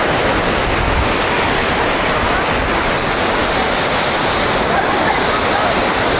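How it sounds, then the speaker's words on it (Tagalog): Water thunders down a waterfall in Negros Oriental near Dumaguete, heard up close as a loud, unbroken roar. "Ganda ng falls."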